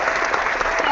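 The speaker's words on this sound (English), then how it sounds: "Can I clap?" An audience at a tech and social media show breaks into dense applause for a welcomed guest, a short, loud burst of overlapping clapping filling the whole moment.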